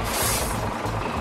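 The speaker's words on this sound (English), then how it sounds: "It is a concrete mixer truck." A toy concrete mixer truck lets out a loud, close air-brake hiss that lasts about a second and sounds alone, with no voices.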